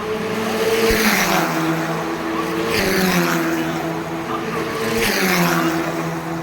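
Formula 4 race cars run on a Chennai circuit. Loud, high-pitched engine notes rise and fall through repeated upshifts, with other cars droning nearby and commentators faintly underneath.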